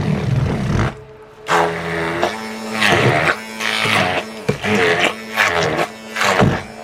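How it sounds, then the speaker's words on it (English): A blender purees partly frozen fruit for homemade fruit leather, running in loud, close, pulsing bursts with the motor pitch dipping and rising as it churns the thick mixture. "So I'm going to finish pureeing it"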